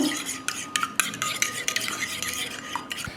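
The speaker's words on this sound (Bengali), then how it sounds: "এবার ডিমের সঙ্গে এটাকে খুব ভালোভাবে মিশিয়ে নেব।" Chicken being mixed with egg and hot chili sauce in a bowl, a busy, close scraping and stirring with quick utensil clinks against the bowl, continuous and fairly loud with no voices.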